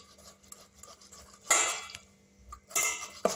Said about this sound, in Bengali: চাঁচা মেশিনের সাহায্যে এভাবে চেঁচে নেব আমটাকে